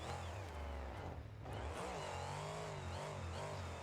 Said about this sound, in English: all that extra whine and stuff you hear is actually the gearbox